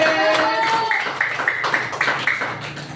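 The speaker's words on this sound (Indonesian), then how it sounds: "tepuk tangan buat kelas 5C" A class of fifth-grade children claps together in a classroom, a short burst of quick, close hand claps over a teacher's voice.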